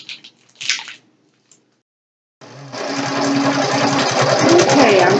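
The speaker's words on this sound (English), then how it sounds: "1/4 inch seam on this edge, and sew all the way down" A sewing machine runs steadily along a 1/4 inch seam on a tote bag made from a recycled feed bag, loud and close and continuous, after a few brief handling sounds and a pause.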